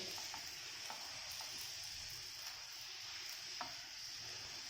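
Prawns roasting in a pan, a steady faint hiss and crackle of sizzling oil with a few small ticks and clinks scattered through it.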